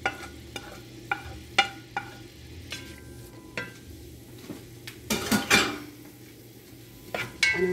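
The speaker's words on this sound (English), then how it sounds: "let it saute for a little bit until it's brown in color" Vegetables sautéing in a warm pot on the stove, with intermittent clinks and scrapes of a utensil against the pot over a soft sizzle, several sharper knocks spaced throughout.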